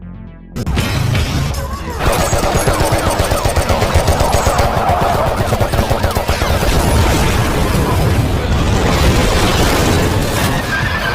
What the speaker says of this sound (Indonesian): terjadilah aksi kejar-kejaran yang diwarnai baku tembak